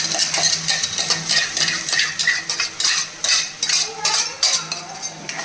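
Onion-tomato paste being mixed into a pan for matar bhaji, with a spoon repeatedly scraping and clinking against metal in an uneven, close, busy rhythm, without any talk.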